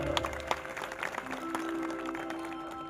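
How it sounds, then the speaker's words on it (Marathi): Audience applause at a devotional Nath bhakti song concert, soft scattered clapping at a distance with a low sustained tone beneath, fairly faint. "एकदा ह्या माझ्या छोट्या भावासाठी टाळ्या झाल्या पाहिजे."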